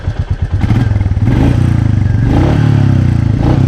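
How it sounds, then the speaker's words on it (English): A 2020 Royal Enfield Meteor 350 BS6 motorcycle's exhaust thumps close by, a few sharp pulses at first and then a steady, rapid, loud thudding beat as the single-cylinder engine settles into a rhythm. "let's listen the silencer sound of new vehicle Meteor."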